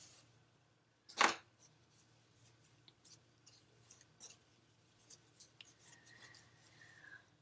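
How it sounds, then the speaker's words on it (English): Scissors make one crisp, close snip through a crochet yarn tail, followed by faint rustling and handling of the yarn. "I'm going to cut kind of a long tail because I'm going to use this to sew on everything"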